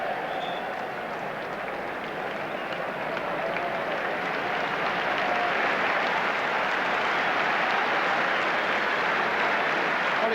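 Crowd applause in a football stadium at a 1978/79 First Division match between Arsenal and Manchester United, rising as a substituted player leaves the pitch; a broad, continuous wash of clapping and crowd noise, steady and loud throughout.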